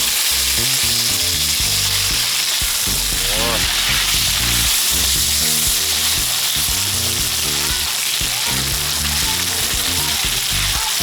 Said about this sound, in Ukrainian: смажимо у жирові картоплю порізану великими шматочками